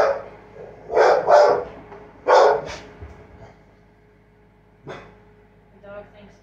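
A farm dog barks several times in short bursts at a middle distance indoors, with a few quieter yips trailing off afterward and low room noise between.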